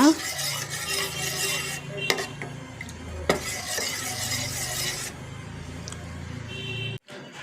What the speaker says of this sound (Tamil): இப்போ வந்து ஸ்டவ்வில் நல்லா வந்து மீடியம் ஃப்ளேமில் வச்சுட்டு நல்லா கிளறி விட்டுக்கிட்டே இருங்க